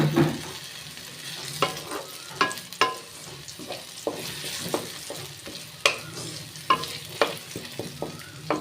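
Pointed gourd (potol) fries in a pan with a soft, constant sizzle. Frequent knocks and scrapes from stirring break in close by, with no voices.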